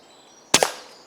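An air rifle fired at a squirrel sitting on a feeder outdoors, a single sharp close crack followed by a quick second knock of impact, over faint background quiet.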